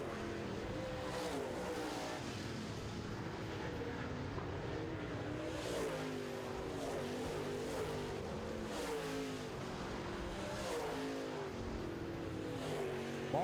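Late model stock cars race around a short oval track, a steady dense roar of many engines revving and passing continuously throughout, with no pause in the noise.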